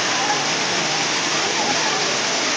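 Heavy typhoon rain pours down alongside flood water, a dense, steady roar of water that is loud and unbroken throughout.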